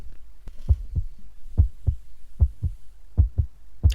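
A heartbeat sound effect from an Alien Stage song thumps in paired beats, loud and close, with the pulses coming slightly quicker toward the end and no talking over them.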